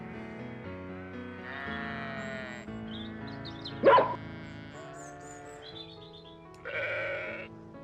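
Sheep bleat in the 2006 PS2 game Babe, over game music with a sudden sharp hit midway and further bleats later on, no talking.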